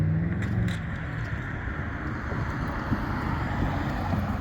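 Small car driving repeated laps around an oval at an Ocean Beach cars and coffee meet, its engine a low steady hum under heavy wind noise on the microphone.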